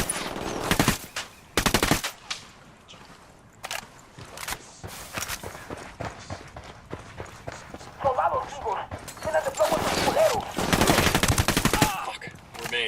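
Rapid submachine gun bursts ring out in the video game Ghost Recon Wildlands, loud staccato volleys repeating in several bursts with voices talking between and over the firing.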